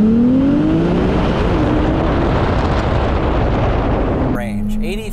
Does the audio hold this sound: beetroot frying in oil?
no